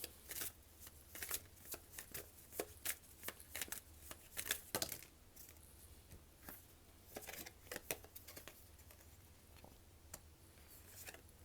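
Tarot cards are shuffled in quick, irregular bursts of crisp riffling and soft slaps, close and fairly quiet with short pauses between.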